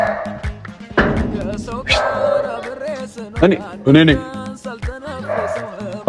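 A dog barks and yips repeatedly at close range in several loud bursts, mixed with whimpering, while people talk over it.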